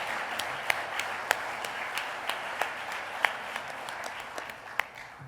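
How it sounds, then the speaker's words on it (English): A crowd applauds steadily at an evening business awards ceremony honoring family and private companies, with dense, sustained clapping and a few sharper individual claps standing out, fairly distant and even throughout. "Let's give all of our partners a nice round of applause."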